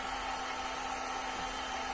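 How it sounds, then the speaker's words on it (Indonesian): A hair dryer runs continuously at a steady pitch, with an even motor whine and airflow hiss close by and no pauses. "hair dryer pun jadi"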